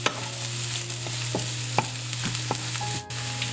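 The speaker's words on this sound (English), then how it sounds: "I'm just going to saute that onion a little bit." Chopped onion sautéing in avocado oil, a steady close sizzle with several sharp clinks and scrapes of a utensil stirring the pan.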